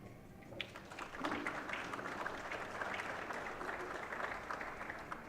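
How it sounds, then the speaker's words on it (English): Applause drifts over from a neighbouring table at a women's 8-ball pool championship, a soft, distant wash of steady clapping from a small crowd that lasts throughout. "We just heard some applause claps."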